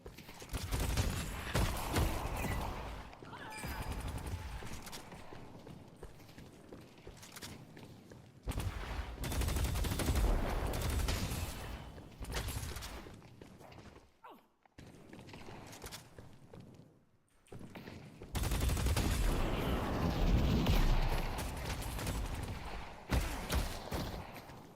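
In the Valorant first-person shooter, rapid bursts of gunfire and clattering footsteps come in dense stretches separated by brief near-silent gaps.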